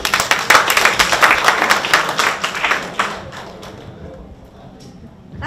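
A crowd at a university alumni association tea party bursts into brisk, loud applause for about three seconds before it thins out and fades into a quieter room.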